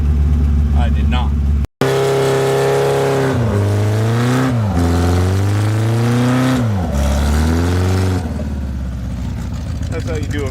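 A Volkswagen stuck on ice revs hard in repeated pulses, the engine climbing and dropping in pitch with each blip as the wheels spin, loud and close after a brief cut near the start.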